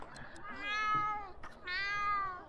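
Two meows from a cat in The Sims 2, the first long and wavering, the second shorter after a brief pause, both clear and close with a quiet background.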